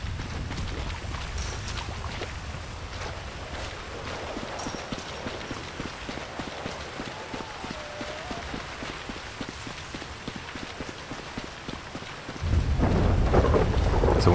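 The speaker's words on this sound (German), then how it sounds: "Das ist aber Unwetter." Heavy rain pours steadily through a thunderstorm in GTA 5, with rumbling thunder throughout and a louder crack near the end. No one speaks.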